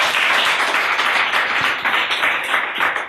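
An audience at an evening show applauds a welcomed guest, producing a steady, loud wash of many hands clapping throughout.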